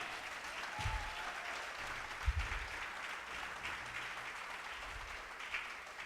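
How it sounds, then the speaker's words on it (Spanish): A church congregation claps together in steady, sustained applause that fills the whole stretch, dense and even, with a few louder low thumps and no speech over it. "Vamos a regalarle una ofrenda de palmas al Dios de la gloria."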